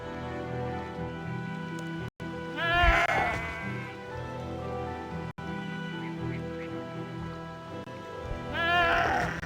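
Sheep in the RuneScape 3 video game bleat twice, once early and once at the end, clear and close over a steady game background hum.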